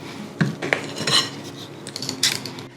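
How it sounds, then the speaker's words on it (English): Batter is scooped with a muffin scoop into the cups of a muffin tin for pumpkin streusel muffins, giving several short metallic clinks and scrapes at an irregular pace, close by with no talking. "I'm using a muffin scoop here, and that is gonna help me make sure that every muffin cup has the same amount of batter"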